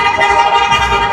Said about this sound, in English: I can hear cars just beep beep beep beep beep beep beep beep,